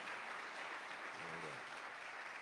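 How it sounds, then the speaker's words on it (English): Steady applause from an audience at a Rakim event at the Hotel DuPont in Wilmington fills the whole clip, a dense even patter of clapping with a faint voice murmuring briefly in the middle. "Round of applause for that."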